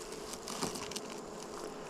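Honey bees around a new hive hum in a soft, continuous buzz, faint and close, with small patters as they move about, no voices heard.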